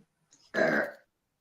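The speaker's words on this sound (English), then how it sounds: "They say when you burp after a meal, that's a sign of blessing that you've been blessed" A single close burp after a meal, short and throaty, preceded by a faint breath and followed by silence.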